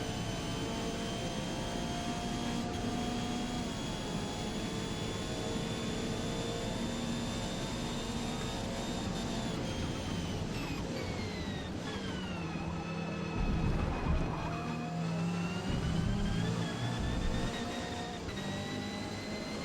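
A Subaru race car's engine revs hard and steadily near the rev limiter during a Forza Motorsport endurance race, a loud sustained drone with harmonic tones that sweep downward and then climb back up as the car shifts or lifts.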